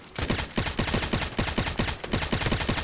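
Automatic weapon fire in the online shooter Contract Wars, using an RFB rifle with mods: a rapid, even burst of close, loud shots, about a dozen cracks in under three seconds with no talk.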